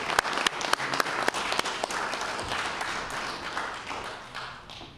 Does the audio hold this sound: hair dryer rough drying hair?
no